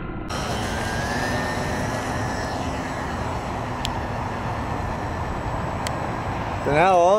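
A Ray's Nitroplanes RC model PBY seaplane flies near reeds on water, its electric motor giving a steady, loud buzzing whine throughout, with a brief wavering pitch at the very end.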